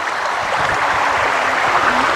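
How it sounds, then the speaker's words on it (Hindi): Fast-flowing mountain stream water on a trail at Brahmagiri hill near Nashik roars in a loud, unbroken, dense rush close by, with no talking over it. "ये देखिए भाई साहब कितने तेजी से पानी चल रहा है, देखिए दनदनाट पानी जा रहा है"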